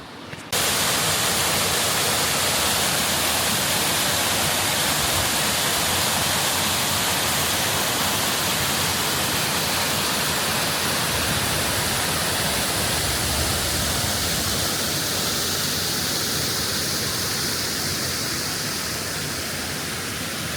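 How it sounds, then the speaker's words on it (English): River water rushing beneath a stone bridge in Swaledale, Yorkshire Dales, a loud, continuous, even roar of flowing water that holds steady throughout. "The water running underneath this bridge is actually part of the river that we saw earlier"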